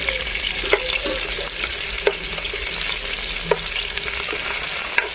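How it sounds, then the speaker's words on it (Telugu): Onions and green chillies fry in hot oil for a village-style chicken dum biryani, giving a steady close sizzle throughout, broken by occasional sharp clinks and scrapes of stirring. "ఆనియన్స్ కొంచెం వేగనిద్దాం ఫోర్ పచ్చిమిరపకాయలు కట్ చేసుకొని అందులో వేసుకున్నాం"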